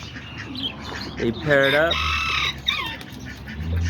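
Newly paired pigeons, a blue bar female and a white brown bar male, give a short burst of squawking and cooing calls close by, with a person talking over and around them.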